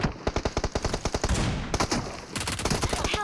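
Rapid automatic gunfire from PUBG Mobile in a solo-versus-squad match, a fast rhythmic burst of shots, then a dense hissing stretch and more quick volleys, loud and close with no talk.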